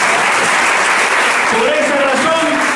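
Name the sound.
congregation applause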